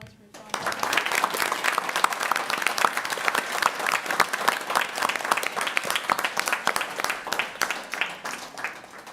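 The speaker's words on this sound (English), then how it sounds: "Let's give him a round of applause for his audience." An audience at a spelling bee championship breaks into applause after a near-silent start, a crowd of hands clapping briskly and steadily, close and lively, with individual claps popping out of the sustained patter.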